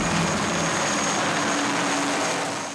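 A military helicopter arrives for a casualty evacuation, its loud, steady rotor and engine roar filling the air with a broad rushing noise that fades slightly at the end; no voices are heard.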